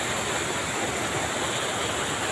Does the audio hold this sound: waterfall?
yes